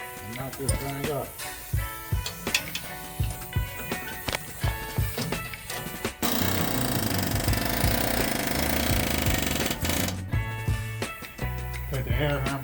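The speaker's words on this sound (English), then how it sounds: "Take the air hammer, I'm gonna hammer in here to pull it away from the frame" An air hammer rattles in short bursts and then one long sustained run, knocking a spring perch off the frame of a 1967 Ford F100 truck in a garage, loud and close.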